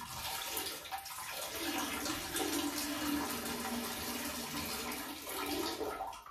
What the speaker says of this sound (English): We flush clean water straight into the toilet and nobody cares about it.